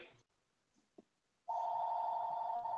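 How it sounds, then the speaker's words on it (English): After a quiet stretch with faint sounds, a phone starts ringing with a steady, sustained electronic tone that continues, moderately loud, to the end. "John, we can hear your phone ringing, buddy."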